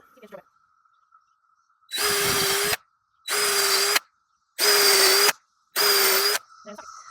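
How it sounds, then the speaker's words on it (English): A power drill with a 3/16-inch bit drills into wood, whining in four steady bursts of about a second each, separated by short pauses, loud and close, with faint clicks between. "you need a 3/16 sized 3/16 inch drill bit"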